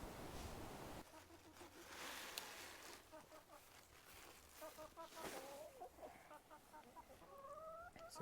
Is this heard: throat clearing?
no